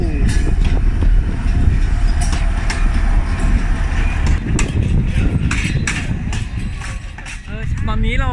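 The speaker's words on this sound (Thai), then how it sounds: "มีรถไฟที่วิ่งจริงด้วยเข้าชานชาลา" A working train rolls into a station platform in Chiayi, Taiwan, with loud continuous rumble, wheel clatter and squealing brake tones, steady throughout amid crowd noise and people talking.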